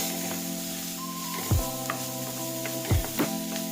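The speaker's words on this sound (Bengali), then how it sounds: "লবণ দিয়ে সবজিগুলোকে খুব ভালো করে ভেজে নেব" Vegetables sizzle steadily in hot oil after salt is added, with a few sharp scraping stirs of a utensil against the pan, close and alone.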